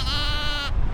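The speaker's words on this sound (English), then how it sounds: "I've got the little lambs." Lambs bleat on a muddy hillside farm along a hiking trail, one long wavering bleat lasting most of the moment, close and loud, then cutting off abruptly.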